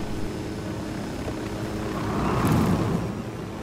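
A helicopter in the video game Ghost Recon Wildlands, heard as a continuous rotor and engine drone that swells louder toward the end, with no talk.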